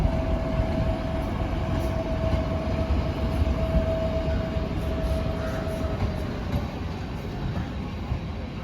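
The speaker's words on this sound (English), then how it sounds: "I think that's my train pulling in very slowly" A diesel locomotive hauling a double-deck car pulls slowly into a station on a Moldova-to-Belgium rail route, producing a continuous, even rumble with a faint sustained tone running through it.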